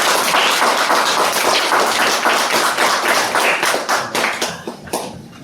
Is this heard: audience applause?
yes